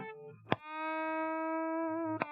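A single electric guitar note rings out through a BOSS compression pedal plugin, struck sharply with a pick, sustained evenly and smoothly for about two seconds, then cut off by another pick attack.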